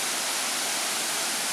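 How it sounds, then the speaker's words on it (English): Muddy Creek Falls roars as a steady broadband rush of falling water, heard from the top of the falls. "we reached the top of Muddy Creek Falls"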